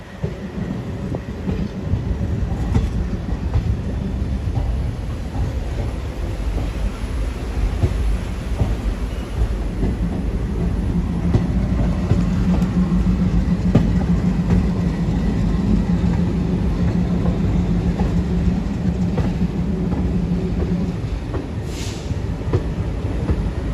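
A daily sleeper-class passenger train from Palitana rolls into Bhavnagar Terminus, a continuous heavy rumble and rattle of wheels heard from on board, with a low steady drone building in the middle and no voices.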